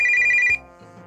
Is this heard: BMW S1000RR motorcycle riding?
no